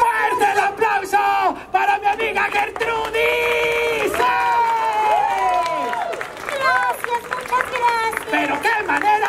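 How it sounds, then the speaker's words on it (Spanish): At a puppet theatre show, an audience claps and cheers in a lively burst while shouting voices and puppet performers' speech ring out over it, the crowd noise swelling and fading across the stretch. "¡Fuerte el aplauso para mi amigo!"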